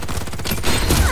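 A quick burst of rapid gunfire from the video game Farlight 84 rattles loud and close, followed by heavier shots, with no talking.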